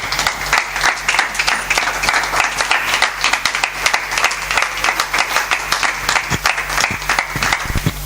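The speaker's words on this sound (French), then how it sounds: "Je crois une fois de plus on peut encore acclamer le Seigneur." A church congregation applauds in praise of the Lord, dense continuous clapping from many hands that holds steady and loud throughout, with faint voices mixed in.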